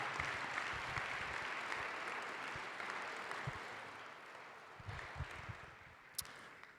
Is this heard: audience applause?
yes